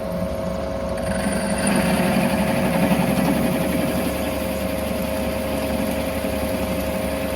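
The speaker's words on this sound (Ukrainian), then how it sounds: "Включаємо станок поливаємо водичкою і погнали." A lathe runs with water poured on as coolant, giving a steady, close mechanical drone with a constant whine that holds at an even level throughout.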